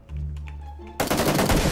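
A burst of loud, dense gunfire erupts in PUBG Lite after a brief stretch of quieter in-game ambience, near and sharp.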